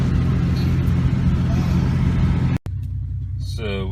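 A car being driven on a rainy day, heard from inside as a steady, loud low road-and-engine rumble that drops out for a moment, then resumes with a brief voice near the end.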